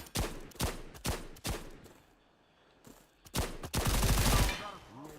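Scattered gunshots in the game Stalcraft, a post-apocalyptic shooter, ring out as several sharp separate reports, then a dense loud burst of rapid automatic fire near the end.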